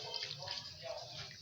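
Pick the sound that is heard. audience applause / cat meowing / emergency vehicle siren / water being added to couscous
water being added to couscous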